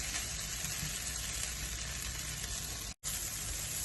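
Okra fries in a ceramic-coated non-stick pan with a steady, dense sizzle, close and unbroken apart from one brief dropout near the end.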